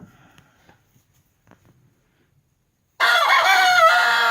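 A rooster crows loudly and close by at a backyard flock, one long sustained call after a few seconds of near silence broken by faint clucks and small sounds.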